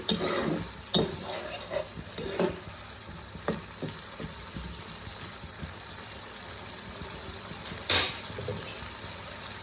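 Pre-fried potatoes sizzle and fry in a masala in a pan while being stirred for ghugni, a dry continuous crackle with repeated scraping and clinks of the spoon against the pan, no talking.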